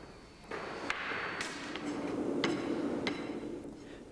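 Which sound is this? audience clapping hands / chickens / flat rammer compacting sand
flat rammer compacting sand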